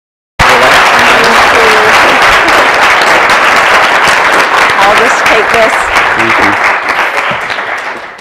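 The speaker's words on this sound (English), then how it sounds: "Let's hear a great big round of applause." A big round of applause from the audience in a college auditorium at the close of an entrepreneurship seminar, loud and dense from the first instant, holding steady before thinning and fading near the end.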